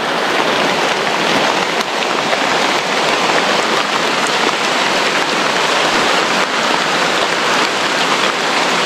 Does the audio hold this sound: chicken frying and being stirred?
no